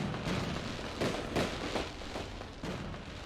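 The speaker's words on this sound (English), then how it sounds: "I don't understand what the fireworks are for" Fireworks going off in the Mars colony-building game Surviving Mars, a steady crackling wash with several soft popping bursts spread through it, moderately faint and continuous with no talk.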